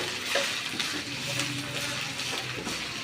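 Drumstick leaves sautéing in oil in a pan give a continuous close crackling sizzle with soft stirring scrapes, steady and moderately loud throughout.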